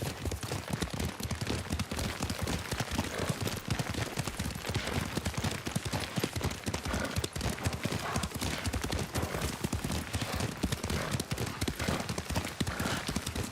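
Horse hooves clip-clop in a steady, rapid gallop throughout as a rider travels on horseback in Ghost of Tsushima, with a brief whinny and faint voices in the mix.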